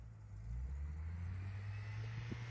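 A 4-cylinder Jeep in second gear climbs through snow with its wheels spinning, giving a steady, loud low engine drone close by that holds even and continuous throughout.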